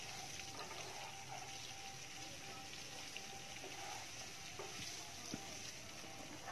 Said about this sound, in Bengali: কফিগুলোকে লাল লাল করে একটু ভেজে নেব।